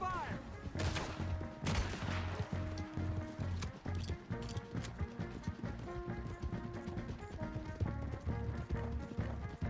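A Red Dead Redemption 2 shootout: rapid gunfire crackles over the drum of galloping horses, with game music and shouting voices in a dense, continuous mix.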